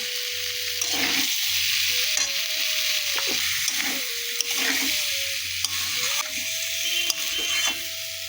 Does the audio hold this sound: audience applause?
no